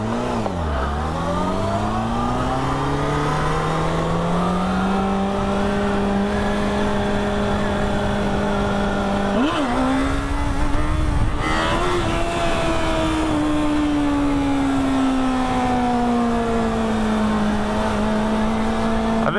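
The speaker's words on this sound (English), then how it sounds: "This bike is way more fun to wheelie though than the Aprilia. I've got so much more rev" A Yamaha FZ6 motorcycle engine revs steadily during wheelie practice, its pitch sweeping down, climbing and holding high with a brief throttle blip midway. The loud, continuous engine note dominates throughout.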